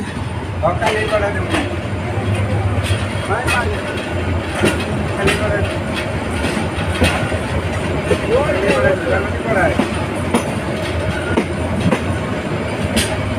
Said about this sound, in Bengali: দেওয়ানগঞ্জ স্টেশন থেকে ট্রেনটি ছেড়ে দিয়েছে